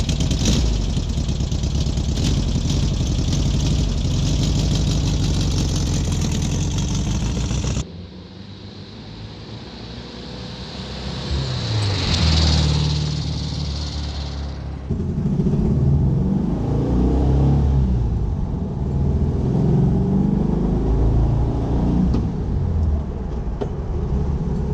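A 1966 Volkswagen Karmann Ghia engine runs with a steady low rumble, drops away briefly, then swells again as if revving or pulling away, loud and close throughout with no talking.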